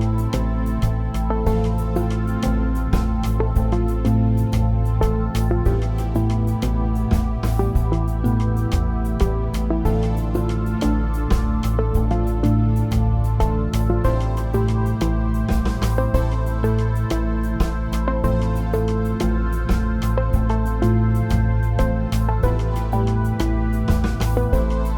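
Jupiter synth chord pad sustained under a Moonbase arpeggio preset, a dense steady layer of held chords with a busy pulsing arpeggio running continuously throughout, evenly loud.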